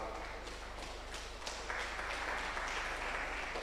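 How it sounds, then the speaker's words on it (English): A lecture audience at an entrepreneurship and innovation event gives steady, sustained applause, a dense wash of many hands clapping throughout, moderately loud with no talk over it. "I'm not sure that applause is for him."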